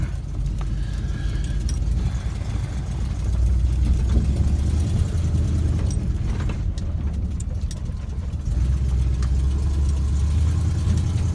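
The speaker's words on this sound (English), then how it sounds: "You can hear that old exhaust leak, but it's not bad." A 1978 Chevrolet C10 pickup engine runs steadily with an old exhaust leak, giving a continuous low rumbling drone heard from inside the cab at close range with no talk.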